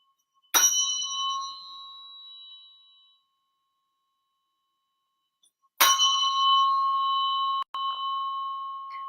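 A tuning fork struck on a puck during a biofield tuning session rings out with a clear, bell-like tone, decaying slowly. A second strike follows about five seconds later and is briefly interrupted.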